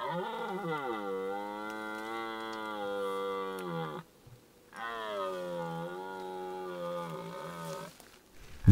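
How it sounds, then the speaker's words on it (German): A young red deer stag bellows during the rut in old pine woodland. Two long, deep, moaning roars of about four seconds each are separated by a short pause, fairly close and clear. "Für einen jungen Hirsch hat er eine verdammt gute Stimme."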